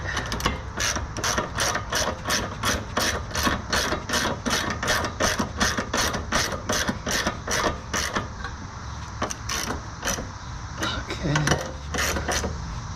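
A hand ratchet rapidly clicks while tightening a control arm bolt on a Lexus GS, a close, evenly paced run of sharp ratcheting clicks that slows and thins out toward the end.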